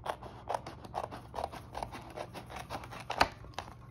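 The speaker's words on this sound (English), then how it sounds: "This is where you'll need your scissors. So I'm gonna first just cut here" Scissors snip through paper while cash envelopes are cut out, making a steady run of soft, close, rhythmic cuts with one sharper snip near the end.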